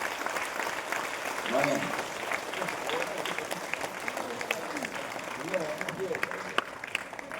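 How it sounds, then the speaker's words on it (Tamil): An audience at a Tamil-language speech event claps in a steady patter of applause while a voice keeps talking over it. "நீங்களே ஒரு முறை நன்றாக கைத்தட்டி கொண்டு மகிழ்ச்சி தெரிவித்துக் கொள்ளுங்கள்"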